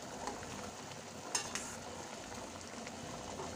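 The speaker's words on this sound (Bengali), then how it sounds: "এভাবে কিছুক্ষণ ফুটতে দেবো মিষ্টিগুলোকে হাই ফ্লেমে।" Rasgulla sweets boiling hard in sugar syrup on a high flame, a steady bubbling sizzle with a couple of brief clinks, close and fairly quiet, no voices.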